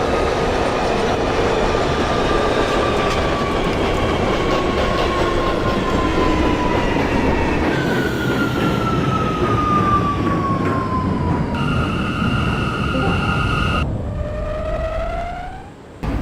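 An R179 subway train on the C local runs in the openbve train simulator game, with a steady rumbling roar of motion and shifting whines from the motors, loud and continuous with no talking.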